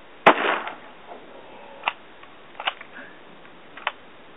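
Shotgun firing during a duck hunt, one sharp loud blast followed by a trailing rumble, then several lighter distant cracks and clicks spread through the rest of the clip.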